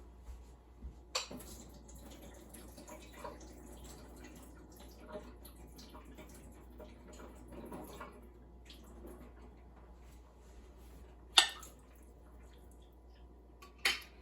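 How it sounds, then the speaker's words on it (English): Liquid being drained off a jar of home-canned corn, faint sparse drips and trickles with occasional sharp clinks of a jar or utensil, quiet and close with no talking. "I am going to drain the liquid off the corn though."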